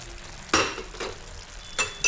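Masala being stirred into a frying prawn curry in a pan, giving a few distinct scraping stirs over a low steady sizzle, close and fairly quiet, with no talking.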